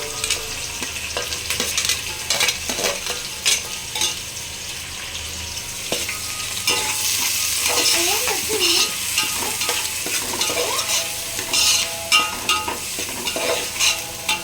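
Onions frying in a pan for gongura chicken curry, a loud continuous sizzle with repeated scraping and clattering as they are stirred, and no voices.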